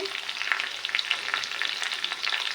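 Dried red chilies and curry leaves frying in hot oil for a tempering, a close, busy crackle of rapid pops and sizzling that continues without talk.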